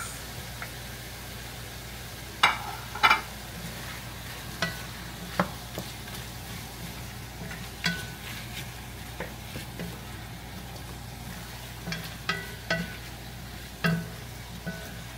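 Onions and tomatoes fry in a pan under a steady soft sizzle, with a dozen or so scattered clacks of a utensil stirring and scraping as they cook.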